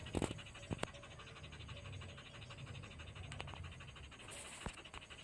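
A rock-mountain hunting dog pants close by, a quick rhythmic breathing over a faint background hum, punctuated by a few sharp clicks and clatters.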